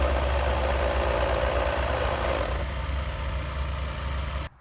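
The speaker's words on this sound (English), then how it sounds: "I'm in neutral. Have a listen when I let the clutch out." Toyota 4Runner idling in neutral with a transmission fault, a steady engine drone whose tone shifts and quiets partway through as the clutch is let out, ending abruptly.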